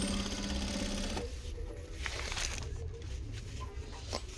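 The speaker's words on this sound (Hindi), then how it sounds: "ये देखिए बिल्कुल साथ साथ में आप किनारे पे इसके सिलाई कर रहे हो" A sewing machine stitches along the edge of a belt being attached to a saree, its needle running in a rapid, even rattle close by, speeding up and slowing in short bursts with no talk.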